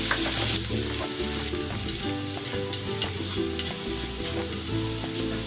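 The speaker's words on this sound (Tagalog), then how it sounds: "Lalagay ako ng cooking oil. Gigisa ko na tong bawang." Chopped garlic sizzles steadily in hot cooking oil in a pan for a pancit sotanghon guisado, a bright continuous frying hiss close up, with soft scrapes and stirring clicks and no voices.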